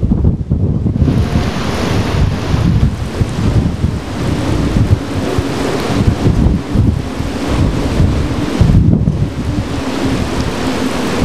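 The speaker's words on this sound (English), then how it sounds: "Water is rushing down the sound right now." Hurricane Earl's floodwater rushes over a covered road at Cape Hatteras, North Carolina, a loud, continuous roar of water and gusting wind buffeting the microphone, steady and unbroken throughout.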